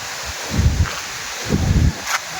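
Strong pre-storm wind tosses leaves, likely neem trees, in two loud rushing gusts of rustling, each about half a second, close and alone.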